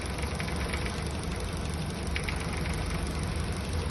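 Idling car engine with a loose top engine cover, a steady low drone carrying faint, irregular light rattling and buzzing from the cover, heard close with no talking.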